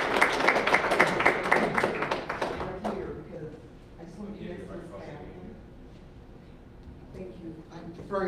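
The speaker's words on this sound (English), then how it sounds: "Give her a hand clap as she comes." Congregation clapping at a memorial service as a speaker comes forward, a burst of hand claps for about three seconds that fades into quieter room sounds with scattered voices and movement.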